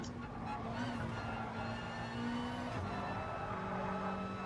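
A Subaru race car engine in Gran Turismo Sport drones steadily at sustained revs, with a continuous hum and a slight pitch shift partway through, heard under a talking voice.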